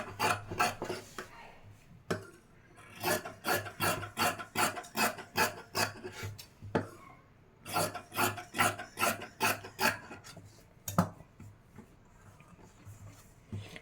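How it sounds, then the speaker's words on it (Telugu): Cloth is cut into cross pieces for a blouse neck: close, steady, rhythmic rasping snips repeat in quick runs, pause briefly, then start again, with a low hum underneath and no speech. "నేను వచ్చేసి క్రాస్ పీస్ అయితే కట్ చేస్తున్నాను"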